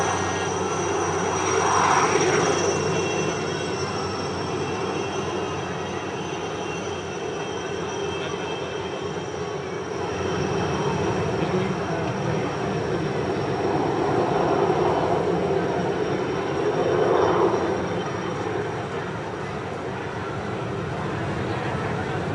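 Steady roar of helicopter engines in a formation flypast at a ceremony in Mauritius, swelling and fading as several aircraft fly by at a distance, with a continuous drone throughout.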